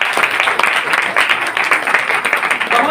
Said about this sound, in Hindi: बहुत जोर से एक बार ताली बजाएंगे